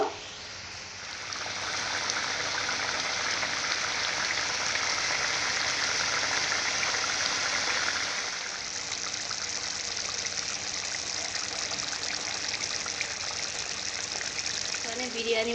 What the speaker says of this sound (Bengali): জলটা একটু বেশি করে দিয়েছি তো দিয়ে এইভাবে আমি ফুটিয়ে নেব